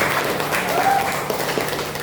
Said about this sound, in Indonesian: tepuk tangan ya buat kelompok 3 ya